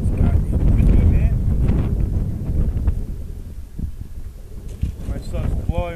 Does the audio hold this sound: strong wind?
yes